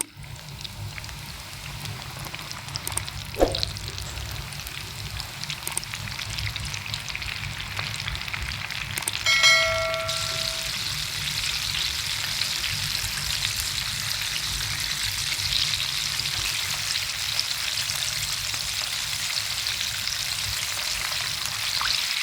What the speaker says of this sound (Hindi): अब यहाँ पे ऑयल मैंने गरम कर लिया, इसके अंदर रख देंगे।